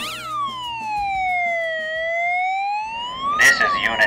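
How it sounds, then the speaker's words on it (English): Police siren on an armoured Audi, a loud close wail that sweeps down and slowly climbs back up, then breaks into a short burst of yelping tones. "So if the siren wasn't enough to get attention"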